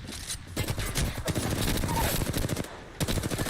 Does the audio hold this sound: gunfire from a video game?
yes